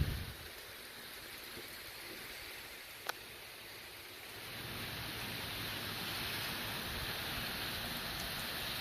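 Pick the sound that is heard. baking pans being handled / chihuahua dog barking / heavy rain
heavy rain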